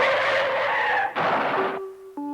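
A pickup truck's tires skid loudly as it swerves wildly after a tire is popped, a harsh screech cut by a brief break near the middle and then fading out.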